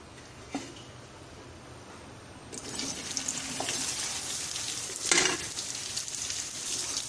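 Sliced okra goes into about three tablespoons of hot oil in a pan for bhindi do pyaza, setting off a steady sizzle that swells partway through and stays bright and continuous, with no talking.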